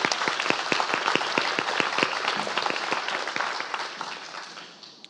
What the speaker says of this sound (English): Let's give him a big round of applause to start out.